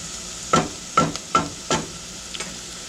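A spoon stirs a vegetable mix sautéing in a pan at medium-low heat, making four scraping strokes in a steady rhythm over a soft sizzle, close and clear with no voices.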